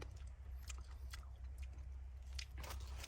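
Someone bites into and chews a raw broccoli stem up close, giving a string of crisp crunches and wet chewing sounds over a low steady background hum; no one speaks.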